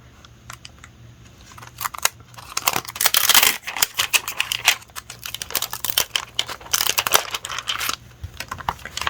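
Paper stamped with bunny images is punched out with a craft punch, giving a run of sharp crunching snaps and crinkling paper rustles, close and fairly loud with no voice.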